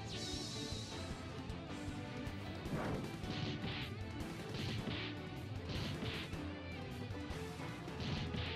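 A bomb goes off in the Touhou fan game Ganbari Minoriko, a crashing, smashing burst layered over busy game music and shot effects, quiet overall with repeated sharp hits.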